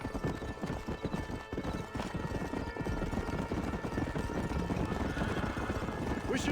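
Horse hooves clip-clop at a steady gallop in the Red Dead Redemption video game, a loud continuous rhythmic pounding with a brief whinny and faint game voices mixed underneath.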